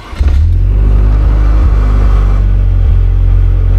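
A 2021 Vanderhall Venice GT engine catches from a push-button start and settles into a loud, steady idle with a deep rumble, close by.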